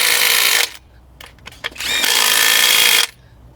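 A cordless impact driver with 180 torque, tightening a screw while working on a car, gives two loud bursts of rapid hammering, a short one then a longer one, separated by brief clicks.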